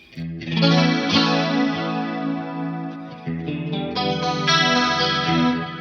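Stratocaster electric guitar on the bridge-middle pickup position through a Mesa Mark IV amp, playing sustained chords and notes with a chorus-like shimmer and light distortion, loud and close with no voices.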